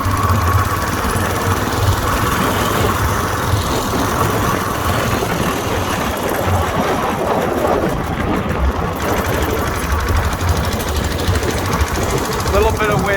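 A Whizzer motorized bicycle engine runs in second gear, a loud, steady buzzing drone with rapid rattling beats, heard close up with wind noise and a voice speaking over it.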